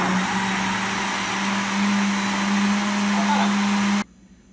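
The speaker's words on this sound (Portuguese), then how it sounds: "Vamos tampar o liquidificador" A blender runs loudly with a steady high whirring drone for about four seconds, then cuts off abruptly, leaving near silence; it is blending green banana ingredients with its lid on.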